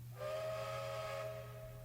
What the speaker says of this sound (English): he heard the whistle of a train and felt reassured